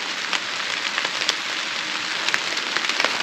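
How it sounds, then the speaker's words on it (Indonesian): Heavy rain pouring steadily during a mountain hike up Prau via Dieng, a dense, even hiss of drops on surfaces with scattered sharper splats, close and continuous with no voices. "Karena ternyata hujannya mulai deras."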